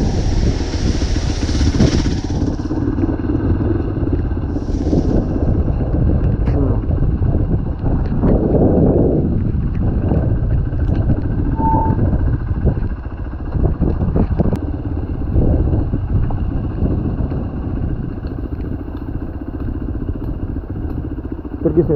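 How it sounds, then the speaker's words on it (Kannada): An old motorcycle ridden along a road near a lake in Yellapur, its engine droning steadily and close throughout, with wind buffeting the microphone and occasional rattles and clatter over the ride. "ಹಳೆಗೆ ಬೈಕ್ ಕೊಂಡು ಹೋಗ್ತಿದ್ದೆ."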